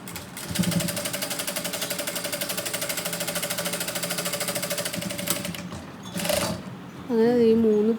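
A sewing machine stitches garment pieces with a rapid, steady mechanical chatter for several seconds, stops, then someone speaks nearby.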